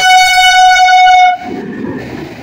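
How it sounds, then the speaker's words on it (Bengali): A train on the Bangaon line sounds a loud, steady horn blast as it arrives at a crowded station, then the horn cuts off into the rumble of wheels on the track. "আর যে ট্রেনটা আসছে বেসিক্যালি ট্রেনটা যাবে বনগার দিকে"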